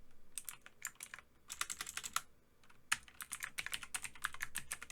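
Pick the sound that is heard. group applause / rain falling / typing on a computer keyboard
typing on a computer keyboard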